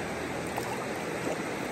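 A river in Sunpul, Chalatenango, flows in a steady, continuous wash of rushing water, fairly close and unbroken.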